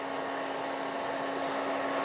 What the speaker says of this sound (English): I started blow drying it a little bit